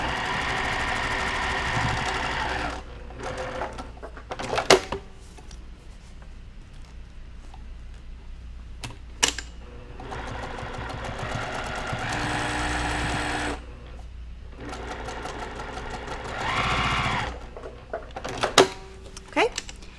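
A sewing machine stitches a cross stitch zipper bag in several running bursts of whirring, separated by pauses filled with clicks and handling noises, close by and at moderate volume.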